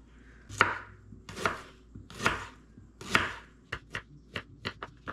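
Onion chopped on a board with a knife: four slow, separate thuds, then a quicker run of lighter cuts, close up and with no talking.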